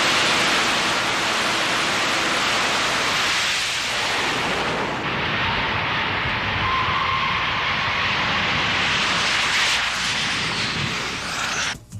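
A jet-powered drag race car sits on a concrete starting pad at Raceway Park, its engine pouring out a continuous, loud, broad roar that holds steady with slight swells for the whole stretch.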